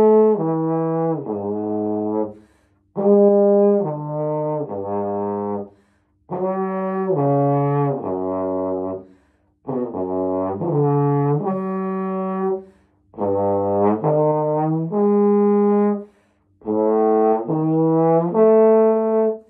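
Trombone and euphonium play together in short phrases of sustained brass notes, separated by brief pauses, clear and close.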